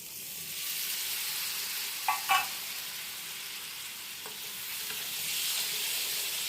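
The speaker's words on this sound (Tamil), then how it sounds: "இதுதான் அரிசி பொரிக்கிற கறி." A soft, steady sizzle of curry frying with rice in a pan, with a couple of brief metallic scrapes from stirring partway through.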